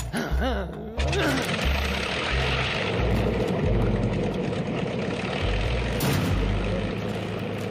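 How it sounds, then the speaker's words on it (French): A propeller aircraft engine catches after the propeller is spun, sputtering briefly and then settling into a loud, close, rough running drone with low throbbing pulses. "Ça vous ennuierait pas de faire tourner l'hélice?"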